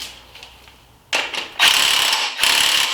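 Close ratchet wrench clicking in bursts while loosening a belt tensioner on a Hyundai Sonata, quick rapid ratcheting strokes with brief pauses between, loud and nearby.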